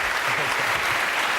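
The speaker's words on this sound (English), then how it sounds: "Al Murray, give him a round of applause." A studio audience on a comedy panel show applauds in a steady, dense burst of clapping, loud and close, lasting throughout.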